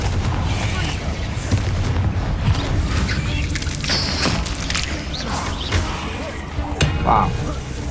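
Confringo spell blasts in Hogwarts Legacy: booming explosions and thumps come in quick succession over a busy game soundscape, with impacts and crackles scattered throughout.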